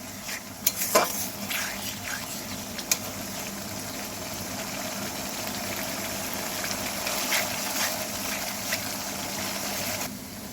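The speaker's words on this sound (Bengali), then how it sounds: "পেস্টটা দিয়ে এইভাবে কিছুক্ষণ কষাতে হবে" Spice paste sautés in a pan with a soft continuous sizzle close by. A spoon scrapes and knocks against the metal a few times early on, then stirring continues quietly, and the sound cuts off at the end.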